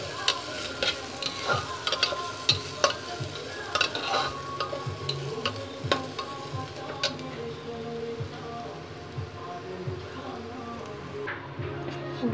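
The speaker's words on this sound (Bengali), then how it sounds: "সেই জন্য প্রেসার কুকারেই ভেজে সেদ্ধ করতে তুলে দেবো।" Chopped bottle gourd frying in oil inside a pressure cooker, a steady sizzle with scraping stir strokes at close range, quieter toward the end.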